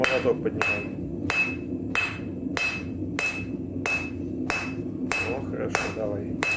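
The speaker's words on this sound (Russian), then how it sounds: "Выше молоток поднимаем." Heavy hammer blows ring out on hot steel as a knife blade is forged at a blacksmith's anvil, about ten evenly spaced strikes with a bright metallic ring lingering between them.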